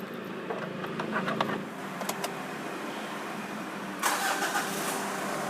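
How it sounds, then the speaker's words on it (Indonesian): The engine of a Mitsubishi Pajero Dakar cranks and catches from inside the cabin, with a short starter whir followed by a burst of revving that settles into a steady idle. "Lalu kita coba nyalain mobilnya."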